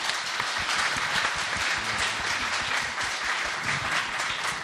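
A Korean welfare-council event audience breaks into steady, dense applause for arriving guests, many hands clapping continuously for several seconds at an even level.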